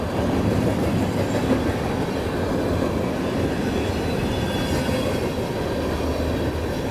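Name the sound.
model freight train running on a layout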